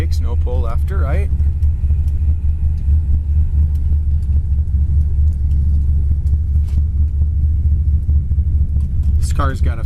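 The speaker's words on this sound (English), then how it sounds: "This car's got a fantastic dual exhaust system put on it. Very expensive, stainless steel, with a good rumble to it." A 1963 Chevy Impala's stainless steel dual exhaust gives off a deep, steady rumble close by throughout, with someone speaking briefly near the start and again at the end.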